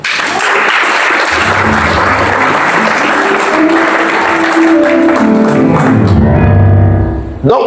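A church congregation bursts into loud, sustained applause and cheering for Jesus, dense clapping close and full throughout before fading out near the end.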